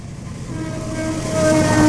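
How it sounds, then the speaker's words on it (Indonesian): A train passing close by, a broad rumbling roar with steady tonal rail whine that swells louder toward the end, heard alone without talk. "Mohon maaf, ada kereta lewat."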